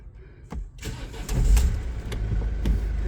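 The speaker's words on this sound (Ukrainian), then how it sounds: "Так, заводимо цей автомобіль." A 2019 Mercedes Sprinter 514 van engine cranks with a few sharp bursts, then catches and settles into a loud, close rumbling idle. No one speaks.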